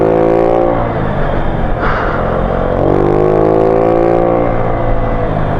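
A Honda Ruckus 49cc scooter riding downhill: a continuous buzzing small engine drone, close and fairly loud, with wind rush and slight pitch wavers throughout.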